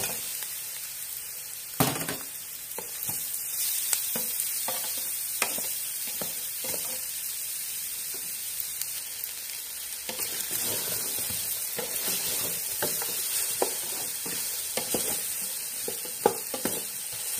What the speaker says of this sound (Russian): Затем в кастрюлю добавляем хвосты.